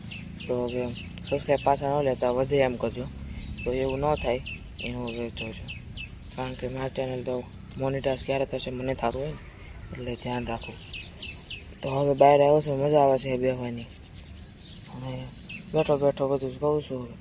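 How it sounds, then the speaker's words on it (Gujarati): Sparrows chirp in quick repeated bursts outdoors, fairly close and lively, while someone talks steadily over them. "ચકલીનો અવાજ આવે છે ને એવું બધું થાય"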